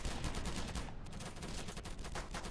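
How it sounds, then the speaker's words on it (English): Dense, continuous gunfire from a Roblox war game, with overlapping shots and bursts crackling without pause across the whole stretch; no single sniper rifle crack stands clearly apart from the steady barrage. "Okay, that guy just got sniped."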